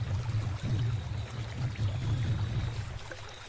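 Water pouring during a bath, a soft, steady stream splashing with low rumbling swells, faint and continuous without talk.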